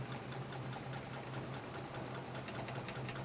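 A homemade twin walking-beam Stirling engine running steadily, giving a soft, continuous mechanical whir with a low hum and a fast, even rhythmic ticking of moving parts, heard alone at close range.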